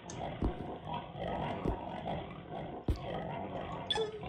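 A pig in a scary video game gives a run of low grunting oinks, steady and fairly close, over a murky game ambience with a few sharp thumps.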